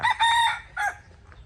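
A young rooster in Mae Sot, Thailand, gives a short, close crow in two strained, high-pitched bursts over faint outdoor background.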